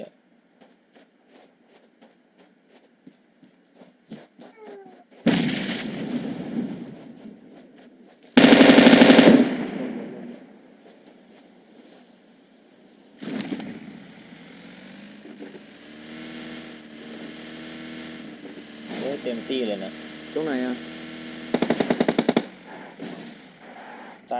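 Gunfire in PUBG Mobile on the Miramar map, loud bursts of rapid automatic shots separated by quieter stretches, with vehicle engine noise in between.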